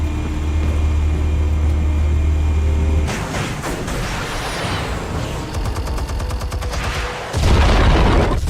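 Explosives detonate in Batman: The Telltale Series, a loud broadband burst of blasts and crackling debris that follows a steady low drone, with a second heavy boom rising near the end.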